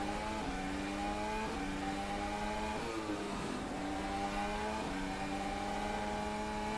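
Onboard engine of a 2021 Formula 1 race car in rFactor 2 at Monaco, running through the tunnel and braking zone: a steady, high-pitched whine rising through gear changes and dropping on downshifts, faint and continuous.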